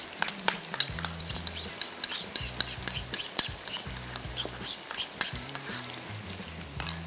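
Cream stirred into a chicken and mushroom sauce in a pan, with a steady low sizzle and repeated scraping clinks of a spoon against the pan over several seconds, close and moderately loud.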